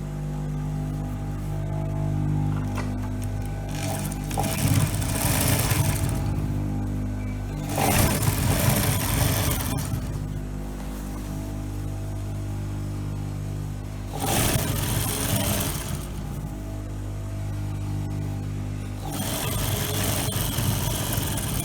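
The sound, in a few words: sewing machine sewing a skirt lining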